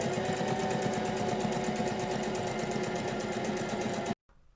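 A sewing machine stitches heavy shade sail fabric for a pergola canopy, a steady, close, rhythmic mechanical chatter that runs continuously before stopping abruptly.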